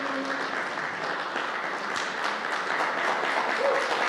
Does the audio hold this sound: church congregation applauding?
yes